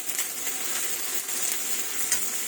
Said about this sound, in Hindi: थोड़ा सा प्याज डालेंगे, थोड़ा सा फ्राई करेंगे इसको।